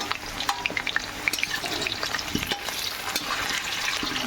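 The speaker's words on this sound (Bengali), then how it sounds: "এদিকে মাংস আলুটা ভাজা হচ্ছে" Potatoes for a meat dish fry in a pan with a busy, close sizzle. Frequent stirring scrapes and pops run through it, and no one talks.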